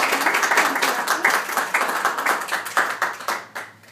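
Wedding guests give a short, light round of hand clapping for the ring bearer, distinct claps close by that thin out and fade toward the end.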